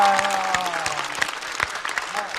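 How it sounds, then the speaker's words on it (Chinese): Audience applause and clapping at a stand-up comedy show, a steady dense patter of many hands with sharper individual claps, loud and sustained throughout, with a voice speaking over the start. "再次掌声送给"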